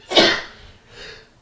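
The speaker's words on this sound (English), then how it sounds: "I'm sneezing like crazy" A single loud, sharp sneeze close by, followed by a soft breathy exhale.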